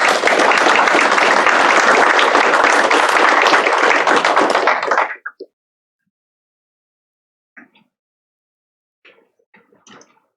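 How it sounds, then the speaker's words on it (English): A school signing-day crowd gives loud, dense applause that runs for about five seconds and stops abruptly, followed by near silence broken by a few faint scattered sounds. "everybody give them a big round of applause"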